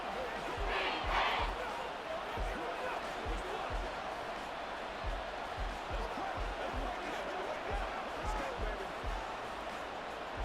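Video game stadium crowd noise from an NFL football match between the Denver Broncos and Houston Texans, a faint, steady roar with rhythmic low thumps like stomping beneath it, running continuously for about ten seconds.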